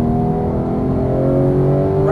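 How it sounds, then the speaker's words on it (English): A Porsche 911 GT3 (991) engine pulls hard on a race track, with a loud, sustained, rising mechanical drone heard from close by. "Squeeze that throttle now."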